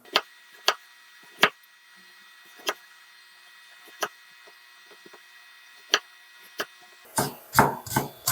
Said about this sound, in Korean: 단무지 채 함설해 볼게요